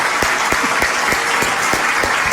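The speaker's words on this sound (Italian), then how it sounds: "Un applauso per chi non vuole che me ne vado alla Sicilia." Studio audience applause at an Italian television variety show, dense and steady clapping from a crowd, loud and continuous across the whole moment with no voices over it.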